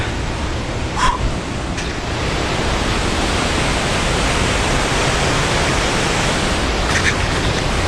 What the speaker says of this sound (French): Le pont de Singe, juste à l'aplomb de la cascade.